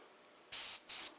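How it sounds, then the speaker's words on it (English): An airbrush sprays a light mist of titanium Metalizer paint in two short, loud bursts of bright hiss, each lasting about a quarter second, with a brief pause between them and no talking. "spray a little, tweak it till I see just a light good mist of it coming out"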